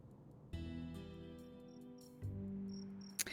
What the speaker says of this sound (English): I was suddenly aware of the buzz of insects in the background.